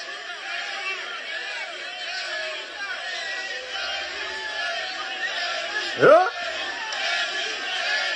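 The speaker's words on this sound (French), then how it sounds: "Vous voyez la foule?" Large political rally crowd of UFDG supporters roaring with cheers and shouts, a dense steady hubbub throughout with one louder shout rising near the end.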